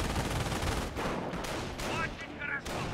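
Machine gun fire in the WWII strategy game Company of Heroes: loud, dense bursts of rapid automatic shots in a battle, stopping briefly and then resuming in short clusters.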